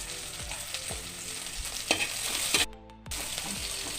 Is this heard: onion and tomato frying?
yes